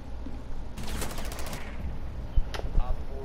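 Rapid gunfire from a Rainbow Six match rattles out in a fast burst, followed by a couple of sharper isolated shots, set against steady game ambience.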